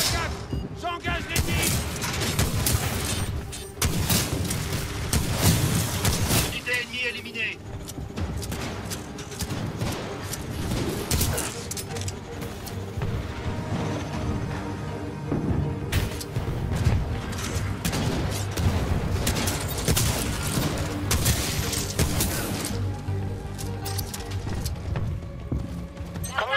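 Bursts of rapid gunfire and booming blasts from the video game Titanfall 2, dense and loud throughout, with a voice talking over the battle noise.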